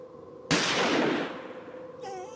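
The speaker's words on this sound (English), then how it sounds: "The gunshot seems to have frightened him off." A single sharp gunshot cracks out in a wooded night scene of the Murder on the Orient Express video game, its burst decaying over a second amid a faint ambient hum, followed by a brief animal-like cry.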